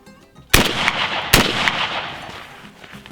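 Two sharp, loud shotgun blasts from reloaded Remington American shells ring out close by, about 0.8 seconds apart, each trailing off into a long echoing decay.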